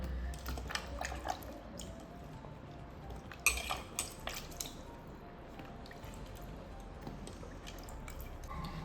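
Pointed gourds (potol) being washed by hand in water, with soft drips, sloshing and squishy rubbing, plus occasional light clinks of a pot or bowl, close and fairly quiet, with no talking.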